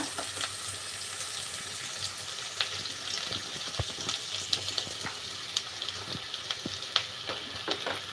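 Turmeric and coriander powder fry in a pan with a steady soft sizzle, punctuated by occasional scraping stirs and clinks, with no voices over it.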